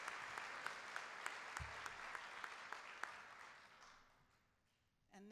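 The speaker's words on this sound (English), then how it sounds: "let's have a round of applause for those sponsors" A crowd applauds steadily, fairly distant, then the clapping fades out toward the end.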